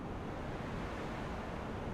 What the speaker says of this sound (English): I'm gonna try and follow the sound of like a waterfall or some static